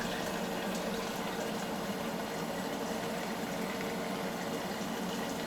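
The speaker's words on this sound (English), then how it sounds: "just go into one of the inspection ports that we got here and just pour it right back in" Water poured into an inspection port of a media-less hydroponic system, a steady continuous splashing and gurgling rush that holds an even level throughout, up close and without any talk.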